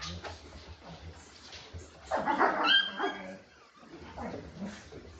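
Several puppies yip and bark, with a louder cluster of high-pitched yelps midway and softer whimpering around it, under faint background talk.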